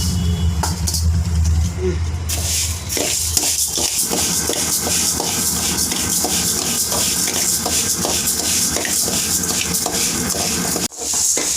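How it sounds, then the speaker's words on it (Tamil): Horse gram dry-roasting in a pan, stirred steadily with a spoon, making a continuous dry rustling and scraping with soft rattling of the seeds, fairly loud and close, with no talk over it. "கொள்ளு மொத்தமாக வறுக்க முடியாது பாதி பாதியாக கொட்டி வச்சுட்டு"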